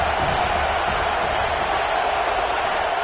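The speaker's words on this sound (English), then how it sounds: "this crowd trying to help keep them there" A dense, steady roar from a large crowd at a football stadium during a game, sustained and loud with no breaks, heard from within the stands.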